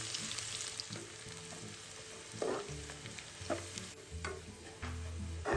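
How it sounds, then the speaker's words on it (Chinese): Sliced shallots frying in hot cooking oil over medium heat, a continuous crackling sizzle with a few louder bursts as they are stirred, close but fairly quiet, with a low background hum and no voices. "100克小红葱，切片后倒入中火爆香"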